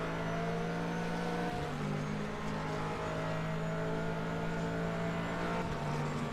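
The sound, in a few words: Corvette race car on back straight, racing video game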